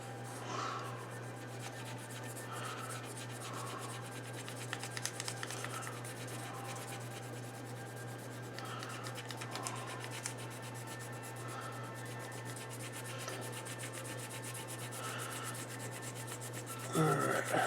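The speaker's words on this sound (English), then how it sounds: "Sand in this direction." Clear plastic model parts for an RFM Tiger 1 kit are wet-sanded by hand, giving a soft, steady rubbing and scratching that continues without a break, close and quiet, over a constant low hum.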